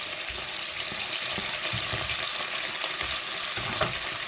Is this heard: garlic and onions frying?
yes